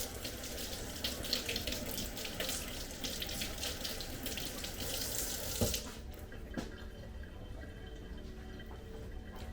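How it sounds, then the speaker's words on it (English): Kitchen tap running steadily as hands are washed after handling eggs while baking homemade cornbread, a continuous close splashing water stream that lightens and thins near the end. "always wash your hands after you handle your eggs"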